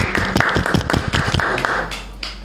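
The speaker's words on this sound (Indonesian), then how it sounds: "Tepuk tangan." Audience at a Honda motorcycle community event in Pasuruan breaks into a short burst of brisk, close clapping that fades out within about two seconds.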